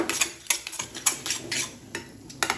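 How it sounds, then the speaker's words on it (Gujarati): Dates are roasted and stirred in a pan for a khajoor barfi made without sugar or ghee, giving repeated close metallic scrapes and clinks of a spoon against the pan, with faint sizzling between the strokes. "એકદમ સોફ્ટ થઈ જાય ત્યાં સુધી આપણે ખજૂર શેકવાની છે"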